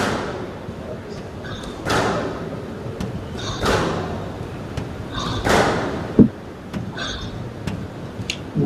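Squash ball during a professional women's quarter-final match, with repeated sharp thuds of shots off walls and the tin, a louder smack near the middle, and squeaky footwork in an echoing court.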